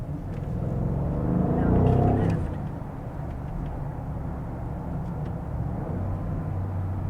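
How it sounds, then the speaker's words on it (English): A 2024 Audi SQ8 engine from inside the cabin gives a muffled rev swell around a downshift, then a low steady drone. "Another downshift to first gear. Okay, the sound is amazing."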